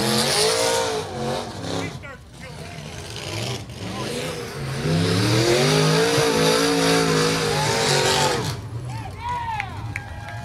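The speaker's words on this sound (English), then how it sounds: "Gonna do a couple of donuts here now." A sport modified race car at a raceway spins donuts after a feature win, the engine revving hard in rising and falling sweeps with tires squealing, loud and close while an announcer talks over it.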